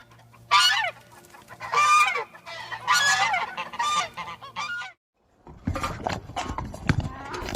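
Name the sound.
goose honking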